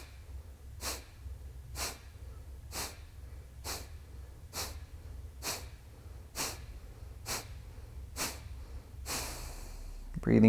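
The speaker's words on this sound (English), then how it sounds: "Breathing all the way out." Kapalabhati yoga breathing: about ten sharp, forceful exhales through the nose, evenly spaced roughly one second apart, close and clear over a low steady background hum.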